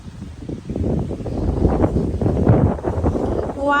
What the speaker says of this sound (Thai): ลม